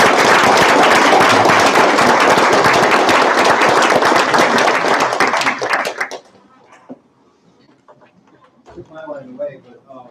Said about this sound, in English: Can I have a little applause?